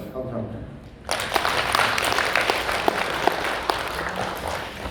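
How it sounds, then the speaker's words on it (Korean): Audience applause breaks out after a second of quiet at a formal general assembly and annual board meeting of the International PEN Korea Centre, a steady wash of many hands clapping that stays loud and even to the end. "다시 한번 박수 좀 크게 드리시고"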